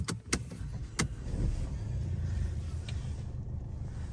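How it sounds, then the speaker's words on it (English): Mercedes car starting up after sharp clicks and a door-like knock at the start, settling into a steady low engine rumble that continues to the end. "close the door, and then you can start the car up."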